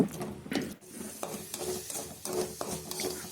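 Onions and tomatoes sauté in oil for a spicy chicken gravy, a steady low sizzle broken by regular scraping strokes of a spoon stirring the pan, close and fairly quiet.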